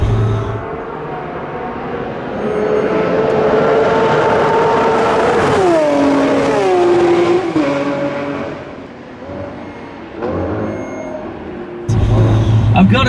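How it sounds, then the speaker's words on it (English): Naturally aspirated V12 engine of a Lamborghini Aventador SVJ with titanium internals, loud and sustained with rising and falling revs, cars passing at a race-like event, engine tone sweeping up then dropping, with voices over it. "naturally aspirated V12 with those titanium reworked internals. As you've heard, it truly sounds like a race car."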